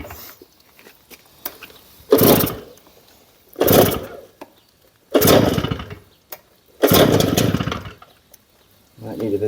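A Stihl stone cutting saw being started, with four loud, separate bursts of pull-start effort, each a rough, broadband roar that quickly dies back to near quiet without the engine settling into a steady run.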